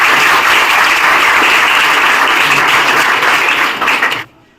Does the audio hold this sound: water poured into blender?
no